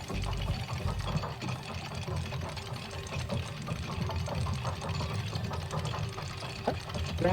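A long elevator ride in the video game Itorah: a steady low mechanical rumble and whirring hum runs without a break at an even level, with faint rhythmic clatter and no talk.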